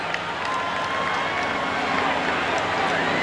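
A packed stadium crowd roars at a close pitch during Game 6 of the 1992 World Series, Toronto Blue Jays at Atlanta Braves, a dense, sustained wash of distant voices filling the whole moment.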